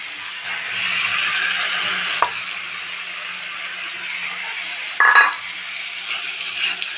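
Malabar spinach stems and small fish fry in a pan while being stirred. A soft, even sizzle runs throughout, with a few light utensil scrapes and one brighter clink of metal on the pan.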